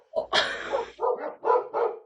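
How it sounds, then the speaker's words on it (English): A dog barks five times in quick succession, close and loud, with sharp yappy barks and short gaps between them and no voices over them. "Why are you barking?"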